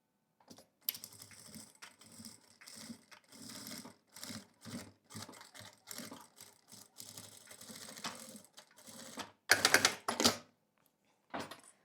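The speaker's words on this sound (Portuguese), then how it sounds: "eu vou costurar exatamente no risco" Sewing machine stitching a strap onto a zipper on tricoline fabric for a small pouch, running in short repeated bursts with pauses between them and a louder, denser run near the end.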